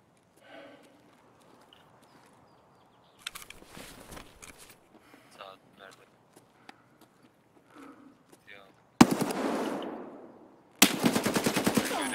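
A grenade blast in Escape from Tarkov bursts in loud and close after quiet stretches of faint movement, and a second sharp burst of gunfire-like crackle follows.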